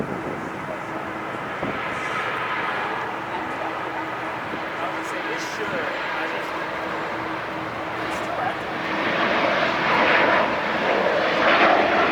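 A Southwest airliner takes off at LAX into a headwind, its jet engines roaring steadily at a distance and swelling louder toward the end, with voices talking over it.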